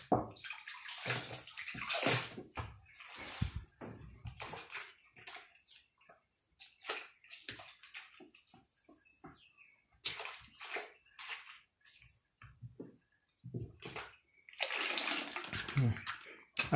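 Clean water is poured and sloshed in a container while jivamrut is being prepared, with irregular close splashing bursts and pours separated by quieter gaps and occasional voices.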